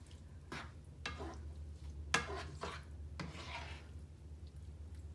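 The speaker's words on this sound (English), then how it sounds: "You're gonna stir that until the powder's all liquefied." A utensil stirring taco seasoning powder in a pan, a few separate scraping strokes with a sharper knock against the pan midway, close but fairly soft over a low steady hum, no talking.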